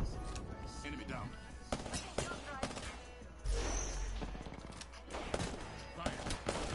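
Rapid bursts of automatic gunfire and scattered shots crackle through a battle-royale style shooter match, dense and continuous over several seconds, mixed with game voice lines and a player talking.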